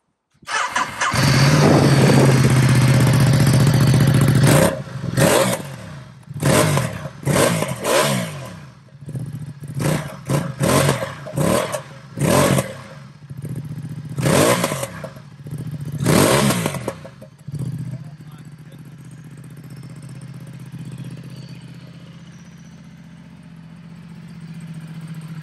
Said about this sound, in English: So I'm going to let you hear first start up of the bike.